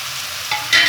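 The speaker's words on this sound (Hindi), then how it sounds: "सारा मसाला जो है वो मैंने इसमें डाल दिया है।" Chicken frying in a handi sizzles loudly as ground masala is added and stirred in, the hiss swelling sharply toward the end of a brief, close burst.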